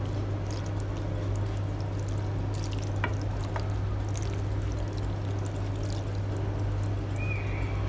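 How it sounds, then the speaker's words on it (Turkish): Tomato paste water poured into a dish of food, a faint continuous trickle and splash over a low background hum, with a couple of small clinks. "Şöyle bir salçalı su hazırladım. Bunu yemeğe dökeceğim."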